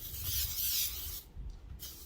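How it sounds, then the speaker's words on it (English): A steady aerosol static guard spray hisses close by over tulle for over a second, then cuts off briefly and resumes in a short second burst. "just spray the tulle roll before you start going on"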